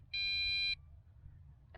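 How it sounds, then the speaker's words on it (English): A Snaptain SP700 GPS drone gives a single sharp, steady electronic tone at binding, loud and close, followed by a faint short blip near the end over low background hum. "Now that double beep is very much like the other MJX quads."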